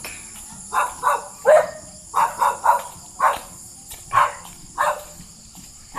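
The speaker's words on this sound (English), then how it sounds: "There's a dog barking." Dogs barking near an Agta village settlement during a night hike, a series of short, moderately distant barks in irregular pairs and singles over steady insect and cricket chirring.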